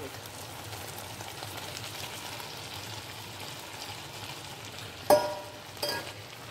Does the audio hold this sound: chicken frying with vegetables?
yes